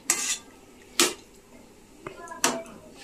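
Poppy seed paste stirred in a metal pan to dry it out, the spoon scraping and clinking against the pan in four sharp strokes about a second apart, close and alone.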